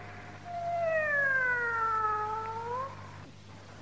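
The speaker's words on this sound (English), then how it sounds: "The cat duet from Ravel's L'Enfant et les Sortilèges, conducted by Lorin Marzo." Two singers trade drawn-out, sliding meow-like vocal lines in the cat duet from Ravel's opera L'Enfant et les Sortilèges, with soft orchestral backing, steady and moderately loud for a few seconds before a short pause.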